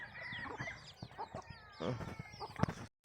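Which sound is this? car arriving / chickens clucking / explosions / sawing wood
chickens clucking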